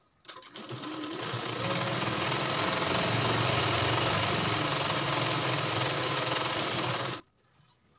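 A sewing machine runs continuously for about seven seconds while stitching the lower hem of a blouse. The loud, even mechanical whir starts abruptly, holds steady, then cuts off sharply.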